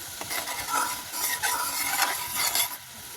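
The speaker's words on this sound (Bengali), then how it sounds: "মশলাগুলা খুবই অল্প পরিমাণে দিয়ে ভালো করে মশলাটা কষিয়ে নিচ্ছি" Spices for a meat curry being stirred and fried in a pan, with a spoon scraping repeatedly through a soft sizzle, close and steady, no voices.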